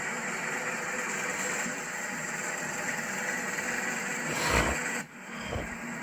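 A 1984 Alfa Romeo Spider Veloce 2.0 with a 5-speed running at a steady idle, its engine and exhaust giving an even rumble, then a brief rev swell near the end before it settles back down.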